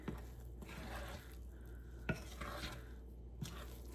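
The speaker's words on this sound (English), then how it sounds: "gently take your spoon and start to incorporate that milk into the rest of your mixture" A spoon gently stirs milk into buttermilk biscuit dough in a bowl, giving soft, quiet scraping with a few light knocks against the bowl, close up.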